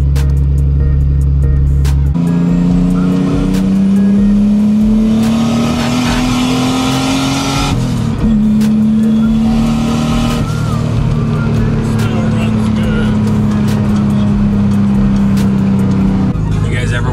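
A car engine drones loudly as it drives and swings through a full U-turn into a garage, the pitch rising and holding steady with a shift midway, while someone talks over it.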